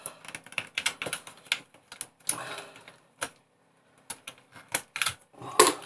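Plastic keycaps being pried off an Atari 800XL computer keyboard: a rapid, irregular run of sharp clicks and snaps, close and crisp, with brief pauses between bursts.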